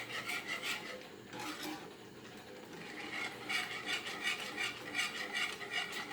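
A spoon scraping and stirring thick roasted-peanut curd kadhi made with chana flour in a pan over a low flame, a steady rhythmic rasping and rubbing heard close up with no talking.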